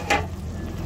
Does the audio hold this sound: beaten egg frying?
yes